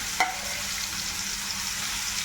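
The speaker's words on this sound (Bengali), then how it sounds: "এখন আমি মাছগুলো ভেজে নিব।" Prawns rubbed with salt and turmeric sizzle in hot oil, with a sharp initial crackle as they go in and then a steady close frying hiss.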